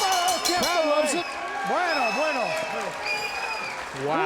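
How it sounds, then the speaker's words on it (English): The crowd at a twelfth-round boxing bout between Orlando Salido and Cristóbal Cruz applauds and cheers, with rising and falling whoops and shouts over steady clapping while voices carry on throughout. "Crowd loves it."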